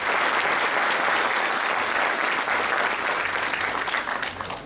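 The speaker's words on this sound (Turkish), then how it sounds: "Kendilerine bir de alkış istiyorum." Sustained applause from the audience at a Çankırı community association evening in Sincan, Ankara, dense and steady throughout, tapering slightly at the end.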